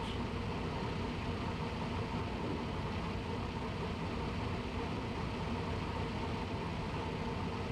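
Offshore racing powerboat engines at a national race, heard onboard as a loud, steady, broadband engine roar that continues without a break and with no talk.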